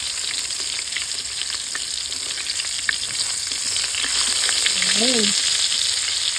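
Field rat and eggplant fry in a pan, a steady close sizzle with crackling spatter throughout, and a person speaks a single brief word near the end.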